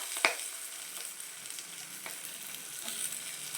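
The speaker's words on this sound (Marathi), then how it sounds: "कढीपत्ता मस्त असा गडकडल्याच्या नंतर त्यामध्ये टाकू आपण कांदा" Onion dropped into a hot oil tempering with curry leaves while making varan gives a soft, steady sizzle, with one sharp pop near the start and then an even crackle.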